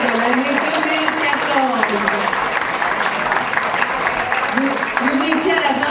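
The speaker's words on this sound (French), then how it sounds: "Madame Pierrette Nadeau, bonne main d'applaudissements." An audience at a volunteers' evening applauds a female volunteer of the year, a dense, continuous wash of clapping mixed with voices throughout.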